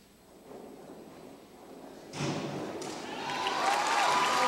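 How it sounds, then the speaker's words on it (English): Crowd noise rises and swells at a high school swimming and diving meet, a burst of cheering and applause that grows louder toward the end, broad and reverberant as in an indoor pool hall. "Crowd's going crazy again."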